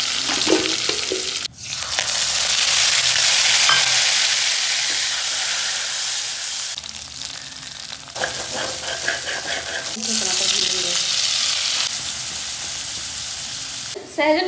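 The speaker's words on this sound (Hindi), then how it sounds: "तो अभी मसाला भूनते टाइम दिखाऊंगी कैसे फिर छोड़ जाएगा।" Masala spices fry and sizzle loudly in a pan, a steady dense hiss broken by brief stirring scrapes and a couple of sharp knocks near the start and end.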